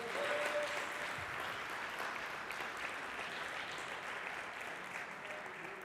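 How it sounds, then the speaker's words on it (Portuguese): A church congregation applauding together, a steady, fairly distant roar of many hands clapping that holds evenly for several seconds before tapering slightly. "Você pode aplaudir ao Senhor por isso?"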